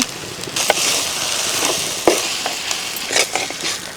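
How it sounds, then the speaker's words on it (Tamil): Avaram flowers sauté in oil for a thuvaiyal, a bright crackling sizzle punctuated by sharp scraping knocks of a spoon against the pan at irregular intervals. "ஆவாரம்பூக்கு சேர்த்து நல்லா வதைக்கலாங்க எண்ணெயிலேயே"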